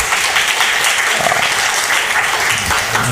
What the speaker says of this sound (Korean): 하나님께 박수 올립시다.